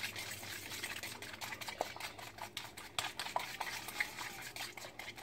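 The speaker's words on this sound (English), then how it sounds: "So you whisk it like that" A breakfast mixture being whisked until fluffy, giving quick, faint, irregular clicks and wet scraping strokes against a bowl, heard alone.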